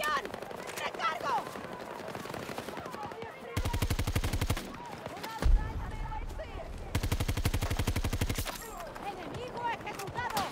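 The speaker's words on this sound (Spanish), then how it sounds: "me está disparando otro señor" Rapid bursts of automatic gunfire in the video game Battlefield 2042, several sustained volleys separated by short pauses, with a voice talking in between.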